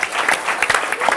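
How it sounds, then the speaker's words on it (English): A brief burst of audience applause for a singer during a hip hop and R&B panel, with dense, moderately loud clapping that carries through the short moment. "That's a round of applause."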